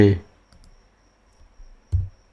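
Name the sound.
typing and clicking on a computer keyboard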